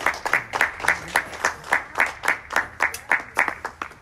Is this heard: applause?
yes